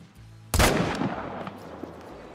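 A single loud M1 rifle shot rings out in the hunting game theHunter Call of the Wild, a sharp crack followed by a long rolling echo that decays over the next two seconds against quiet outdoor ambience.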